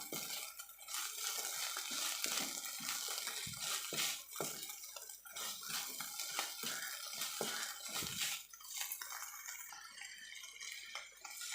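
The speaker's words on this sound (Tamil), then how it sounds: "உப்பு சேர்த்து நல்லா வதக்கிக்கலாம்" Amaranth greens with salt are stirred and sautéed in a pan, giving soft continuous sizzling and wet rustling with scattered scrapes of a spatula, close and fairly quiet.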